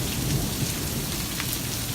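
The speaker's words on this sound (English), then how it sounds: "Bunch of hail everywhere." A violent storm just after a tornado pours down heavy rain and hail in a constant dense roar with low rumbling, loud and unbroken, with no voices.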